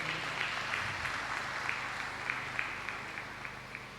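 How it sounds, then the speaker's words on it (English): A ceremony crowd gives a steady, sustained round of applause for the Rivers State government handing a helicopter to the Nigerian Air Force, many hands clapping densely at moderate distance with no speech over it. "appreciate the Rivers State government with a resounding round of applause for this kind gesture"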